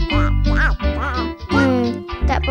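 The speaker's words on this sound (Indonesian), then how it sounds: "Mana awak jumpa anak itik ni, Kuntum?" A cartoon duckling quacking in a series of loud, close, nasal squawks, several calls in quick succession over a low steady tone.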